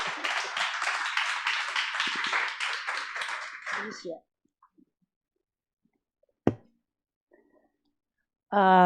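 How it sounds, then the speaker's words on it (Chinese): Audience applause greets an elder at a church testimony gathering, a sustained burst of many hands clapping for about four seconds, then fading to quiet before a single sharp knock and a voice beginning to speak. "我们来拍手来欢迎延秀长老"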